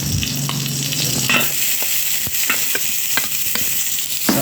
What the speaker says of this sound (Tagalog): habang sinosauté natin, wow, sauté ang ating sibuyas na pula